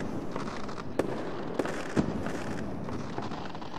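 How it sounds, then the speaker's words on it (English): Fireworks sound effect used in an Unreal Engine 4 scene: a dense continuous crackle and fizz with three sharper pops standing out, steady and fairly loud throughout with no talking. "So, that's fireworks."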